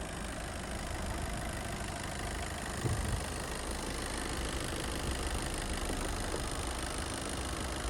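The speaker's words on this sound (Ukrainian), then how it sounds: "І дуже гарно і рівно працює мотор, як ви чуєте на цьому відео." A Skoda Octavia 4x4 engine idles steadily, heard close as an even low hum with no voices and only a brief small bump near the middle.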